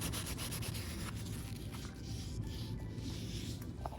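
Wet sanding dried primer with 2000 grit sandpaper on a scuffed Range Rover Sport L320 wheel rim, a continuous soft rubbing and scrubbing hiss with faint rhythmic strokes, close and steady with no talk.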